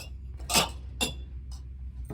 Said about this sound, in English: Pardon all the glass clinking.